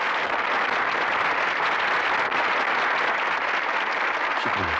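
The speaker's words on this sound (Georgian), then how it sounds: "აპლოდისმენტებით დავაჯილდოვოთ ეს არაჩვეულებრივი მუსიკოსები." An audience applauds musicians with steady, dense clapping that stays loud and even throughout, filling the space without any voices breaking through.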